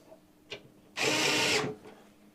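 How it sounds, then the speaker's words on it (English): An electric screwdriver driving power supply screws into a PC case, a single short whirring burst of about half a second after a faint click, in an otherwise quiet room. "I'm using an electric screwdriver because I do a lot of builds during the day"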